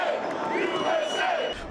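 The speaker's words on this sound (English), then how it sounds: "Former President Trump was greeted with a patriotic chant and applause" Union members and supporters at a Midtown construction site chant and applaud as former President Trump arrives. The crowd noise is loud and continuous, with sung chant lines over a steady bed of clapping and cheering.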